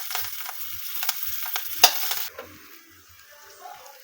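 Boiled eggs frying slowly in a pan over a low flame, with soft sizzling and intermittent stirring taps, one sharp clink near the middle before the sound thins out to quiet.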